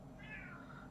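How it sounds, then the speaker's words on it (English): A house cat lets out a single drawn-out complaining meow, faint and somewhat distant, over a steady low room hum with no one talking. "You might be able to hear my cat"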